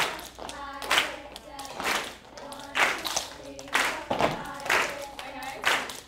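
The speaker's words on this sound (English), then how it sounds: "Everyone clap, clap, clap, clap." A group claps in rhythm during a jump-rope team performance, the claps landing in clear regular beats about twice a second while a voice counts along.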